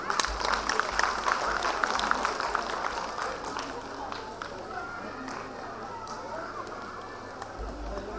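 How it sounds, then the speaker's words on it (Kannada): An audience claps at a Women's Day event as a classical dancer is called to the stage, a steady patter of applause under a low hum, tapering off toward the end. "ಚಪ್ಪಾಳೆ ದಯವಿಟ್ಟು."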